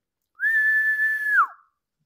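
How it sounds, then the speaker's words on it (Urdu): A single sharp whistle is blown to start a race between animals in a children's tale, a clean steady tone held for about a second with a quick downward drop at the end, close and alone. "بندر میاں نے سیٹی بجا کر دوڑ شروع کروائی"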